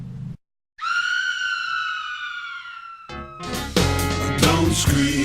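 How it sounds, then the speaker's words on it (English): A shrill, sustained scream rises and holds for about two seconds after a short silence, then gives way to louder, busier noise in a Halloween setting. "Don't scream, it's only Halloween."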